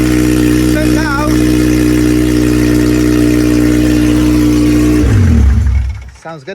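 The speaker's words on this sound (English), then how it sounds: "So we're going to see how it sounds with a kind of exhaust on it." Loud, steady idle of a K-swapped car engine running a new exhaust manifold in a driveway, with a short rev near the end before it shuts off.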